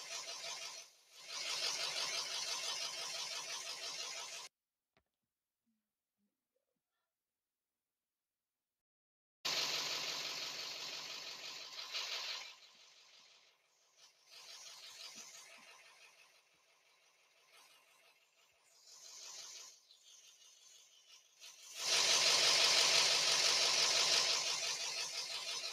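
A school bus engine runs with a steady droning rumble that drops out completely for several seconds, then returns, fades lower and swells loud again near the end, with no talk.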